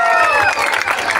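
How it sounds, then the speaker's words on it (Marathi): An audience at an annual school prize distribution ceremony gives loud, dense applause that holds steady for just over a second, with cheering mixed in. "तिच्यासाठी जोरदार टाळ्या वाजवा."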